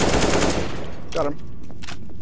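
Loud, dense automatic gunfire in Counter-Strike: Global Offensive opens the moment, then fades into a quieter tail with a brief voice cutting in partway through.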